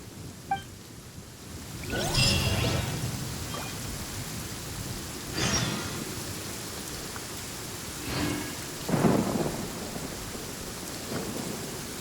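Rain pours steadily in a Genshin Impact thunderstorm, with several rolling thunder bursts breaking through it. The nearest crack comes early, and duller rumbles follow at intervals. No one speaks.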